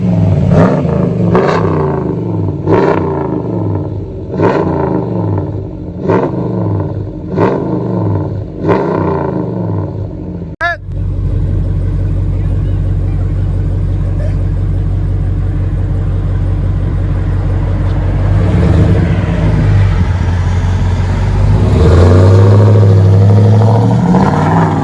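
A 2019 Dodge Ram 1500 Classic with a 5.7L HEMI V8, muffler removed, revs in a string of sharp throttle blips, then settles into a loud, deep, sustained exhaust roar that swells again near the end.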